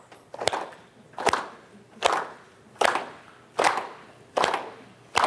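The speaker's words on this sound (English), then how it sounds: "So we're gonna do clapping, okay?" Hands clap in a steady rhythm during a fitness exercise, seven sharp, fairly close claps spaced under a second apart with short room echo.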